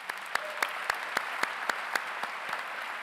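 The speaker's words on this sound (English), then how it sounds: "Let's give him another round of applause." Applause at a university graduate recognition ceremony, a soft crowd patter with one nearby clapper striking in a steady, even rhythm throughout.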